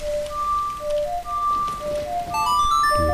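Steady rain hiss in The Legend of Zelda: Ocarina of Time, playing under tonal game music notes and chimes, continuous with no speech.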